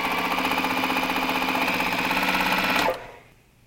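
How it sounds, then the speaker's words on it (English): A sewing machine stitching a quarter-inch seam with a short back stitch, a fast steady close-up whirring hum of needle strokes that stops abruptly near the end, no talking. "I can go ahead and start sewing my 1/4 inch. Do a little back stitch."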